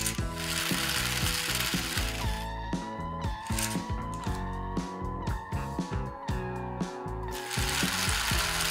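A toy rocket car's motor and gear mechanism running: a steady, close buzzing whir overlaid with rapid ratcheting clicks, continuous throughout with a slight pitch rise partway in, no voices.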